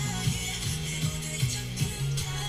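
Dominant snare from a K-pop song hitting in a steady rhythm, about four strokes over a full music track with no talking.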